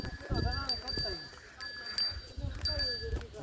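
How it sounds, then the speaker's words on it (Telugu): Sheep and goats on the Amarnath pilgrimage trail in the mountains near Sheshnag bleat several times in quick succession. The calls sound fairly close and overlap one another. "గొర్రెలు కదా ఉన్నాయి, మేకలు"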